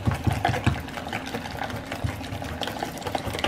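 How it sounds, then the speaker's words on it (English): Grated cheese gets whisked into a keto mixture in a bowl, a fast continuous whirring churn with rhythmic knocking, steady and close. "I'm just gonna add this whole bag of cheese into the mixture, and then I'm just gonna like whisk this again"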